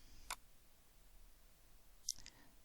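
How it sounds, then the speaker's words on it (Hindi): Two faint, sharp computer mouse clicks, the first near the start and the second about two seconds later, isolated against a quiet background, made while working in CorelDRAW. "इस पर क्लिक किया"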